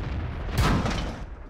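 A single heavy cannon shot from a tank in World of Tanks, firing a high-explosive round at an enemy gun: one short muffled boom with a brief rumbling tail.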